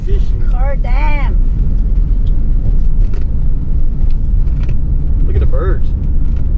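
A camper van rolls across a dam road, its steady engine and road rumble loud and constant, with wind buffeting the microphone and people talking briefly over it.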